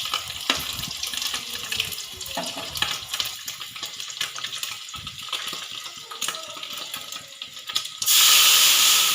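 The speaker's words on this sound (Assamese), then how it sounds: "খাৰ আৰু পানীখিনি দি দিব" Water runs into a cooking pot of fried fish with khar, a gurgling pour over faint sizzling, then a sudden loud rush of water near the end.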